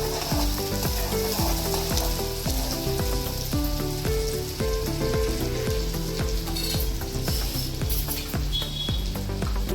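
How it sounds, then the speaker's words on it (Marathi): Crushed ginger-garlic paste fries in hot oil in a pan, sizzling and crackling steadily while rhythmic stirring taps against the pan continue throughout. "ते आलं लसूण पेस्ट पण घालूया, ठेचून घेतलेलं ते घालूया आपण। चांगला खरपूस भाजू दे।"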